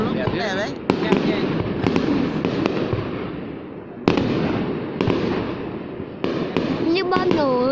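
Fireworks bursting over a town celebration in Chợ Rã, Ba Bể district, Bắc Kạn province, in 2018: repeated loud booms and crackling explosions at irregular intervals, with people talking and exclaiming nearby throughout.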